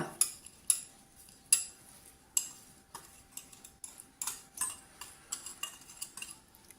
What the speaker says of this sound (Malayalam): നന്നായിട്ട് ഇളക്കണം